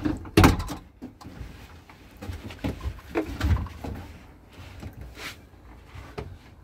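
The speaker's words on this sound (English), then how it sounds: "And we'll open the back door, get some more light in here." The back door of a converted van workshop is opened: a series of latch clicks, thuds and metallic rattles, fairly close, scattered over several seconds with no talking.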